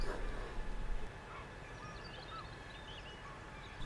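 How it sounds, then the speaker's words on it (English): Wild birds call faintly and intermittently over outdoor ambience beside Loe Pool in Cornwall, with chirps scattered across a few seconds after a brief louder rustle at the start. "There's some birds."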